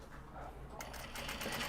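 A sewing machine stitching Japanese fabric for a small cross-body sling bag, starting up partway through and running in a brief, close, rapid whir.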